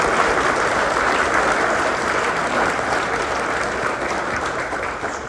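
An audience at The Gathering event bursts into applause, a dense, sustained wash of clapping from many hands that stays loud throughout and fades slightly at the end.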